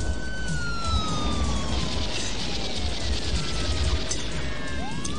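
Police car siren wailing loud and continuous in a German radio play chase, with a deputy's patrol car pulling away from a gas station; steady rising and falling tones over heavy engine rumble, with no voices.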